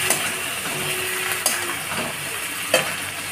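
Boiled peas stirred into frying spices for ghugni give a constant sizzling hiss, with a few sharp scrapes and knocks of the spoon against the pan, close and unaccompanied by talk.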